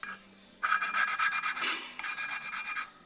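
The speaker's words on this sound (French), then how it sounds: "Et là, on entend, ça gratte comme ça." Rough rasping scrape during a major service on a Volkswagen Golf V R32, heard in two close, even bursts with a brief pause between, with no voices.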